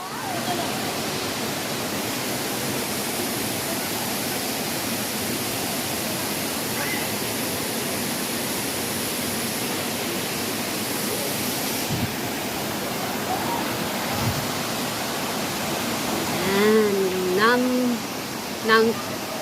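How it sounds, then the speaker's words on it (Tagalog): Ng Tung Chai waterfall in Hong Kong pours as a steady, broad hiss of falling water that fills the scene, with a voice speaking briefly near the end. "Nang Tong Chai Waterfalls"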